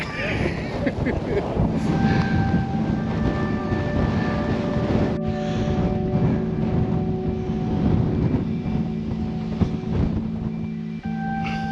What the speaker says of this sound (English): I'll be glad to get out of the wind a bit.